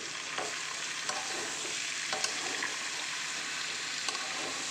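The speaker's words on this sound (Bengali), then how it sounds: "এবার ভালো করে নাড়িয়ে চাড়িয়ে একটু মিক্স করে দিই।" Malabar spinach and mixed vegetables being stirred in a pan, a steady sizzling hiss with soft scraping strokes recurring about once a second, close and continuous with no voices.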